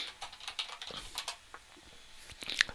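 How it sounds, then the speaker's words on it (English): Quick, light typing on a computer keyboard, a brief run of uneven key clicks with short pauses, close and fairly quiet. "So just by typing London weather"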